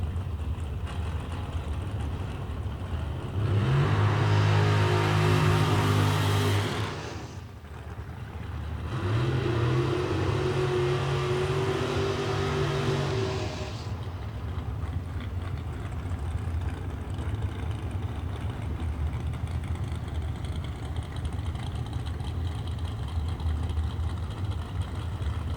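A drag racing car at the Quaker City Big Buck Nationals revs hard at the starting line in two loud bursts, a roaring blast and then a second sustained one, before settling into a steady rumbling background.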